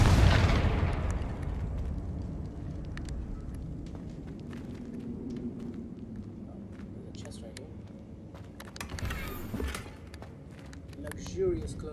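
In Hogwarts Legacy the Confringo explosive spell goes off with a deep boom at the start, which then fades into low rumbling, scattered game-combat clatter and footsteps.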